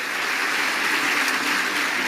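A church audience at River Arena in Anaheim applauding, a dense, steady wash of many hands clapping at once, loud and continuous with no talk over it.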